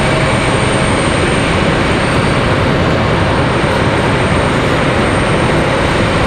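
Breeze Airways airliner touching down at RDU airport on a stormy day, a loud steady roar of jet engine and wind noise filling the whole stretch with no talking.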